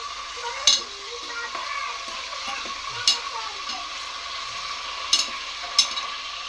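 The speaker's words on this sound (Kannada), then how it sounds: "ಅದರೊಳಗೆ ನಾವು ಇದನ್ನ ಎಗ್ನ ಸ್ವಲ್ಪ ಫ್ರೈ ಮಾಡ್ಕೋಬೇಕು." Eggs fry in hot oil in a pan, prepared as the tempering step for an egg biryani, with a continuous close sizzle and hiss broken by a few sharp spatters and utensil clicks.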